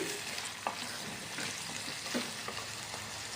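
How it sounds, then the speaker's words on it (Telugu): Onions cut into large pieces sizzle in hot oil in a pan for a prawn tamarind curry, a steady close frying hiss broken by a few soft scrapes and clicks of stirring. "ఇందులో ఇలా వేసుకున్న తర్వాత కలుపుతూ ఫ్రై చేసుకోవాలి"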